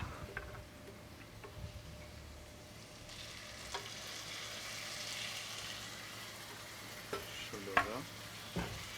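Onions, with a little sugar added, fry and sizzle in a pan under steady stirring, a soft continuous hiss broken by scattered scraping clicks of the utensil against the pan.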